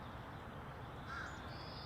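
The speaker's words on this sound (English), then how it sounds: "There's a crow crowing in that tree and it's looking at me." A crow cawing from a tree, one harsh call standing out faintly over quiet outdoor background.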